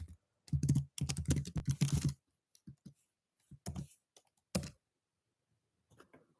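Typing on a computer keyboard during an online interview, with a dense burst of rapid keystrokes followed by a few scattered, separate taps and short pauses, close and moderately loud with no talking.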